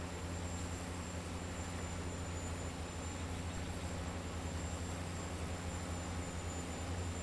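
A tractor engine from Farming Simulator 19 drones steadily and evenly throughout, a constant low mechanical hum with a faint high whine above it, with no talk over it.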